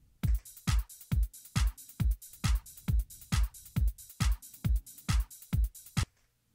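Trance drum pattern with a punchy kick on every beat and crisp open hi-hats ringing between, about a dozen even hits at a steady tempo, close and alone, ending abruptly.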